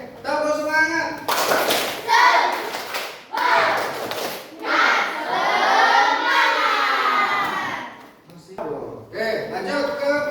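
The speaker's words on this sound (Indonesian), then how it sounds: "Oke, tepuk semangat." Schoolchildren in a classroom do a rhythmic spirit clap, chanting and clapping together in patterned bursts, with loud group voices and brief pauses between rounds.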